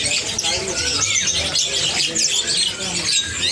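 Songbirds chirp and tweet densely at a bird market kiosk, a busy overlapping chorus of high calls that runs throughout, with faint background voices.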